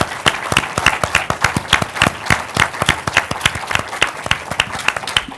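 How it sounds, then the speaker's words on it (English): An audience at a plenary session gives a round of applause, a moderate crowd of clapping with distinct, irregular claps, fairly close and continuous. "Let's give them all a round of applause for traveling to talk with us this morning"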